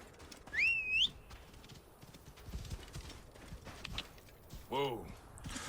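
A horse gallops in Assassin's Creed Origins, quick soft hoofbeats under in-game ambience, with a couple of bright whistling tones and a short whinny-like cry rising over them.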